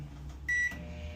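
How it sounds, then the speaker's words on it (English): A microwave oven running for a raku firing of a bisqued pottery piece, a low steady hum with a bright electronic beep partway through. "in the kiln, in the microwave."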